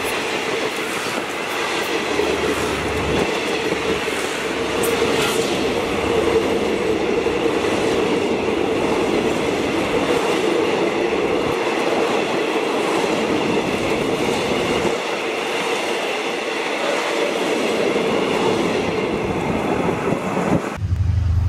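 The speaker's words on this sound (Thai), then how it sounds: "รถจักรทำการเป็นฮิตาชิ4522นะครับ" Hitachi 4522 diesel locomotive hauling passenger train 172 in Thailand, heard as a steady, loud rumble of engine and rolling wagons with clickety-clack of wheels throughout, no voices.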